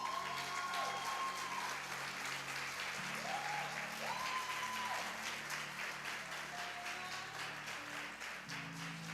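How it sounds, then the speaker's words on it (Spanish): Steady applause from a church congregation fills the room for about nine seconds, dense and sustained, with a few faint voices and musical tones rising over the clapping. "Yo quiero que usted le dé un aplauso a ellos."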